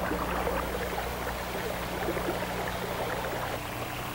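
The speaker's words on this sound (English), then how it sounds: "One of the nicest things about these waterworks is the sound of them." Water wall fountain in an urban lobby, a steady broadband rush of falling water, loud and continuous like white noise, with a low hum underneath and no voices.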